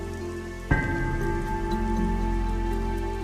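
Heavy rain pours down in a village with mud-walled houses, a dense steady roar of drops on surfaces that swells suddenly after a brief start and stays loud, no one speaking.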